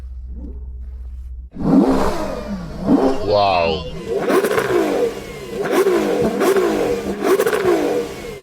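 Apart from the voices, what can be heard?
Lamborghini V12 engine revving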